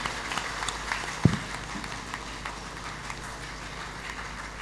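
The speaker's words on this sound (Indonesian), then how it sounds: "Waktunya cukup, kita beri aplaus." Audience applause at a regency head election debate, a broad wash of many hands clapping from a crowd in a hall, steady and moderately loud with one sharper thump partway through.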